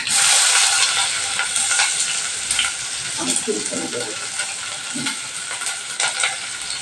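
Onion hits hot oil already seasoned with mustard seeds and cumin, giving a loud, close sizzle that eases into steady frying with a few stirring scrapes.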